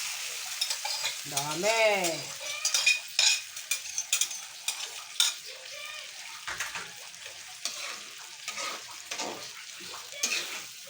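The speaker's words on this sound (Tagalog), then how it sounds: "ilagay na natin ang ating binati na itlog" Beaten eggs being scrambled in a hot pan, with sizzling and repeated scraping stirs in uneven bursts, close by, while a person speaks briefly over the cooking.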